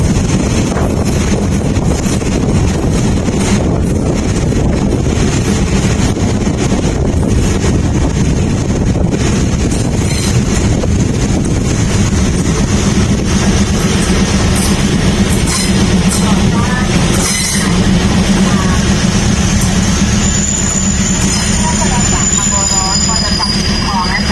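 A Thai local train, number 403, rolls along toward Phrom Phiram station, heard from inside the carriage as a loud, steady rumble with wind buffeting the microphone the whole time.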